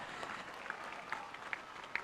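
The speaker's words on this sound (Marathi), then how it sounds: "टाळ्या वाजवून संदीप मकवानासाठी एकदा टाळ्या" Crowd applause at a cricket megafinal in Jaisingpur for player Sandeep Makwana, a steady faint patter of claps from a distant audience with a few sharper claps standing out.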